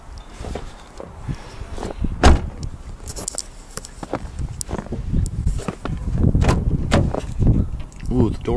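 A car door being handled on a damaged car: several knocks and thuds close by, including one sharp clunk, mixed with shuffling and someone talking throughout.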